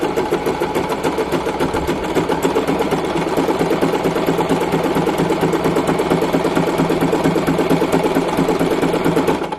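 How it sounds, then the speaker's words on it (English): A Singer Promise sewing machine stitches a buttonhole, running at a fast, steady mechanical chatter for nearly ten seconds without a break. "that's going to stitch up along the left hand side."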